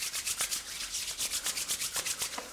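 Two palms rubbing beard balm together to warm it, a rapid steady back-and-forth swishing friction repeated about a dozen times, close and soft.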